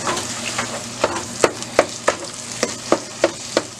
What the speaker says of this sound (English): we're gonna stir that up in there